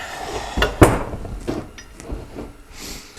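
A handful of sharp metallic taps from a hammer striking a pin punch during reassembly of an old Briggs and Stratton engine, spaced irregularly in a quiet garage.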